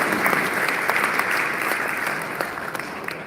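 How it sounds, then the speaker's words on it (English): Sustained audience applause at a Veterans Day event, dense and steady clapping from a sizable crowd that fills the whole stretch and tapers slightly toward the end. "So a round of applause for all of our Mohegan team members, veterans, and ones that helped us."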